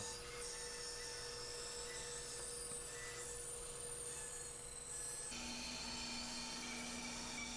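Bandsaw roughing out the shape of a wooden mid-century counter stool seat, a steady broadband whir with a constant low hum that shifts in tone partway through, continuous and fairly quiet with no talking.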